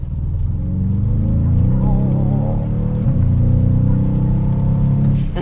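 A sports car's exhaust in its loud mode, a deep steady rumble with rising and falling engine tones, running close and continuous throughout.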